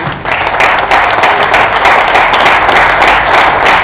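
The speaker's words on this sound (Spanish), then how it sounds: "Alaba a Dios y me está dando un aplauso al Rey." Church congregation at a men's gathering applauding, loud sustained clapping and cheering that fills the room evenly for a few seconds without a break.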